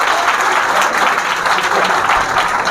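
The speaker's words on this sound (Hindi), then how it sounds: "चलिए जोरदार ताली लगाइए।" Loud crowd applause at an Independence Day results ceremony honouring students, a short burst of dense, close clapping from many people that carries on evenly throughout.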